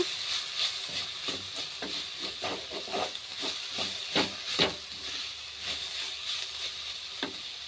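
Tomatoes cooking down in a pan for a bitter gourd and carrot curry, a hissing, steamy sizzle with irregular stirring scrapes and clinks over several seconds, close and fairly quiet with no talking.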